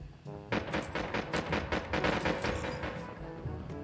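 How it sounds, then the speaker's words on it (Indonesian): Desert Eagle pistol shots in Call of Duty Mobile, a rapid run of loud, sharp reports in close succession over dense game action, with no clear talk. "Lihat ya, Desert Eagle nih, coy. Nembak kepala satu hit nih."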